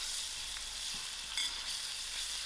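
Ginger garlic paste fries in hot oil with curry leaves, a faint steady hiss and sizzle with a brief crackling burst partway through.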